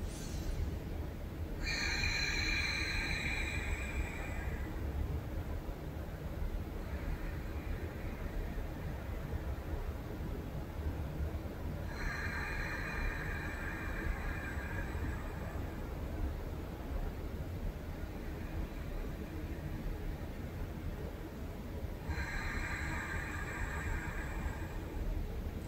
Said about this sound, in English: we're doing the ujjayi breath or ocean breath